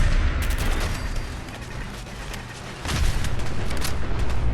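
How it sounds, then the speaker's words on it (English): Loud, rumbling explosions in Fallout 4 with sharp booming bursts, a steady roar of blasts and crackling debris, swelling louder near the end. "These explosions seem bigger than the stuff from the base game"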